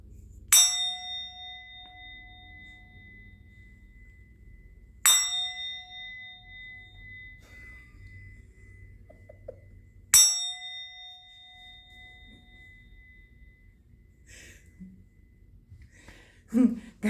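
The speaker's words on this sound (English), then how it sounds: "I'm going to ring the bell." A metal bell struck three times, about five seconds apart, each strike a clear ringing tone that slowly decays; a faint fourth hit comes at the very end.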